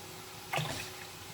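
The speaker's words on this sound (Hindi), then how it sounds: "1 जग हमने पहले पानी का ऐड किया है, ये दूसरा जग है।" Water poured from a jug into a cooking pot of spiced kadhi base, a short splashing gush that starts abruptly and tails off over a low background hum.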